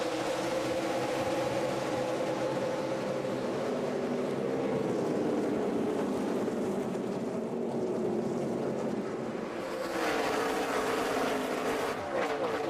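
NASCAR Nationwide Series stock cars race at Iowa, a continuous loud engine roar swelling and fading as the pack passes, with a rising burst of engine noise near the end.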